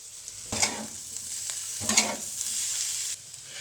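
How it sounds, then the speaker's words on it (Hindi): Qeema with green chillies and lemon juice is stirred and mixed in a hot pan, with two or three scraping strokes rising over a gentle, constant sizzle. "और अब मैं इसको अच्छी तरह से मिक्स करूंगा।"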